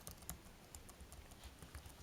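Apple Wireless Keyboard keys clicking: a quiet, close series of light, irregular plastic taps, as if the keys are being pressed one after another, with no talking.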